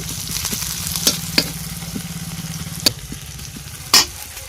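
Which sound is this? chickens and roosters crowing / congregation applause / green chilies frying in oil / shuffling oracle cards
green chilies frying in oil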